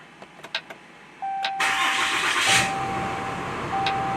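A 6.7L engine cranks and fires after a few light clicks, catching abruptly and settling into a loud, steady idle with a thin whine riding over the rumble.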